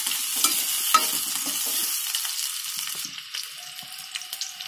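Onions and green chillies sautéing in a pan: a steady, close bright sizzle with soft scraping stirs throughout, easing slightly toward the end.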